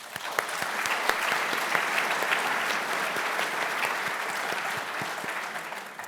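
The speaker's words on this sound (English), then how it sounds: "please join me in one last round of applause for these artists" An audience applauds artists, scholars and supporters at a contemporary art talk, a steady dense round of clapping lasting several seconds at moderate level with no voices over it.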